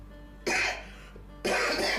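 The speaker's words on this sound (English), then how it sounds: "Not trying to cough now to prove the point that I was sick." Two sharp coughs from someone who has been sick, about a second apart, close and loud against a quiet room with a low steady hum.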